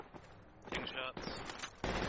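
Bursts of gunfire from a military shooter game crackle in several clusters, loud and close, with players talking over much of it.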